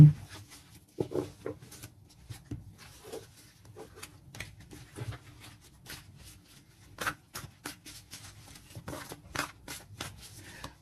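Tarot cards shuffled by hand for a fresh draw, a soft irregular patter of riffling and rubbing bursts with brief pauses, fairly close and quiet.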